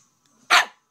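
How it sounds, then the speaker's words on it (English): A Shih-poo puppy, five months old, gives a single sharp high bark, close and loud, after a near-silent moment. "No, that's barking."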